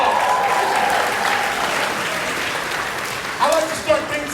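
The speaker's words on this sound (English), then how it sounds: "Give yourselves a round of applause." Applause from freshmen at a university orientation, a broad wash of clapping that fades gradually, with scattered whoops and cheers rising near the end.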